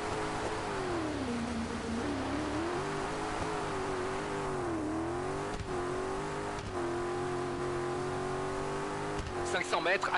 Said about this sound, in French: Ah merde, je m'embourbe.